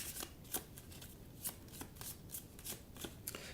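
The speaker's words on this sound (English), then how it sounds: "We're going to shuffle these." A deck of cards for the board game Tiny Towns is shuffled up close, giving a rapid run of crisp riffling bursts with sharp slaps between them and no talk.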